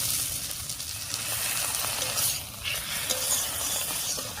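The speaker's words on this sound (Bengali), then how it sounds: "এবারে মশলা বাটা জল দিয়ে খুব ভালো করে কষিয়ে নেব।" Ground spice paste thinned with masala water sizzles and bubbles in a pan for a tangra fish curry, a steady close hiss with soft stirring scrapes throughout.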